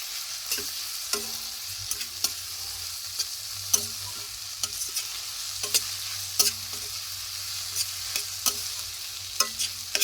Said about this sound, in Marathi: हिरवी मिरची छान परतली गेली पाहिजे. एक 2-3 मिनटं याला व्यवस्थित परतून घ्या.